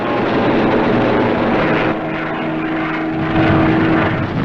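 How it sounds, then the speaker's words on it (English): WW2 P-47 Thunderbolt fighter planes diving as dive bombers, a loud, continuous roar of propeller aircraft engines filling the whole stretch with a slight rise and dip in pitch. "These thunderbolts are dive bombers."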